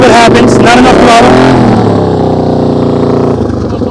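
Motorcycle ridden at slow speed during a riding-skills practice session, engine held under throttle loud and close, then easing to a steadier lower drone as it passes, with a voice briefly heard early on.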